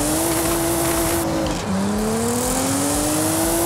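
A Nissan GT-R Nismo R35 engine in Forza Horizon 5 revs loudly and close, its pitch sliding down, dipping briefly at a gear change, then climbing again as the car accelerates.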